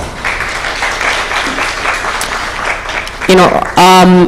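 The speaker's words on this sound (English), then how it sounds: "Another round of applause." Audience applause at a children's summit, a broad steady wash of clapping that fills most of the stretch before a voice breaks in at the end.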